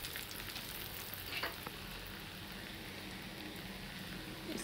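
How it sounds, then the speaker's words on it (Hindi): Egg balls deep-fry in hot oil over a medium flame, giving a faint, steady, hissing bubble with a couple of slightly sharper crackles near the start. "इसको गोल्डन ब्राउन होने तक फ्राई करेंगे"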